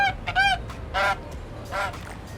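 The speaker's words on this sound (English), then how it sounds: "I've added the sound of the bird, panned it from left to right" Honking goose-like bird calls, a few separate bursts over about two seconds, travel from left to right across the stereo field as an added sound effect over a quiet background.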